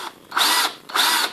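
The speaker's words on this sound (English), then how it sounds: "Just going to eyeball these 16th inch pilot holes" Power drill boring 1/16 inch pilot holes for a hinge on a block, two short whirring bursts close up, each lasting about a third of a second, separated by a brief pause.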